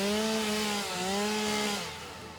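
A chainsaw in the video game Satisfactory runs with a steady buzzing engine drone that dips briefly in pitch, then holds and slowly fades, close and unaccompanied.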